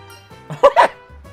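A dog in the Umamusume Pretty Derby video game gives two quick, close barks in succession, standing out clearly from a quiet game background with a low hum.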